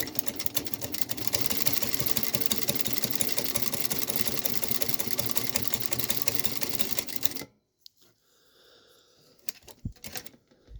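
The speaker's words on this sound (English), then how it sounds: "we're going to run it one time like this with only making that one adjustment" An industrial sewing machine with a buttonhole attachment stitches in a loud, rapid, steady mechanical rattle for about seven seconds, then stops abruptly, leaving faint clicks and handling noises.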